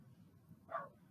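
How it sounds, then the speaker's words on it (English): A single brief bark from a dog, fairly faint and somewhat distant, heard alone over quiet room tone. "Sorry if you hear any barking."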